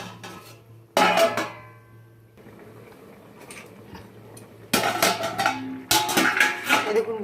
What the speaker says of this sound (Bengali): ঢাকা দিয়ে দিই।